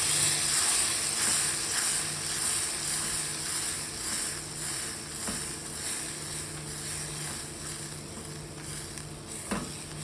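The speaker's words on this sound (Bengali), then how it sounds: "এবারে সর্ষে পোস্তর পেস্টটা আমি এখানে দিয়ে দেব।" Mustard and poppy seed paste sizzles and spits in a hot pan with spices, a steady close frying hiss with occasional stirring scrapes and pops, no voices.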